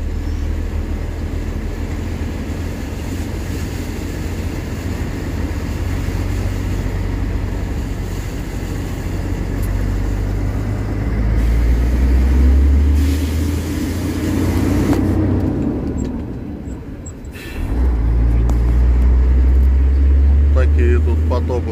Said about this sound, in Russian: Перебираемся через брод.